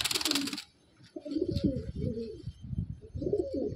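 An old bloodline Madrasi Andhra pigeon with a closed tail coos close by in a series of low, throaty pulses, after a brief burst of rustling noise at the start.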